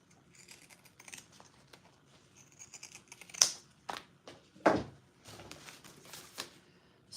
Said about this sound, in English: Use my pinking shears here.